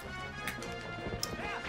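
Horse hooves clip-clop in The Legend of Zelda: Twilight Princess, a quick rhythmic trot under game sounds, with a couple of sharp bright chimes and someone talking over it.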